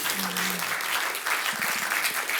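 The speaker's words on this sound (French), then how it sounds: "Vous pouvez les applaudir." Sustained audience applause at a regional hydrogen employment and training event, a thick even wash of clapping with a brief hum and murmur mixed in.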